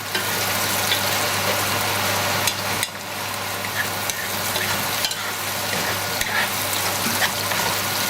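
Eggplant masala curry sizzles and fries in an uncovered pan, a steady close hiss with occasional stirring scrapes running throughout.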